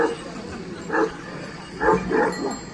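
Turkish Kangal and Aksaray Malaklı shepherd dogs at a native-breed shepherd dog competition bark in short separated bursts, one then a quick double, moderately close over steady crowd background noise.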